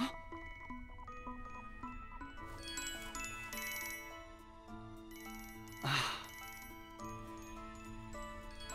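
A phone ringtone plays as a repeating electronic melody with chime-like tones, steady and fairly clear, with a brief louder burst partway through.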